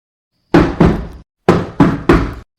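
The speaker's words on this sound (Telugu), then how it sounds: "A Swapna, door దియ్యి." Knuckles rap on a door: two sharp knocks, a short pause, then three more, loud and close in an otherwise silent room.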